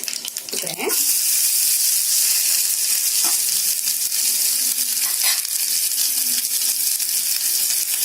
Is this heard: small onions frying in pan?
yes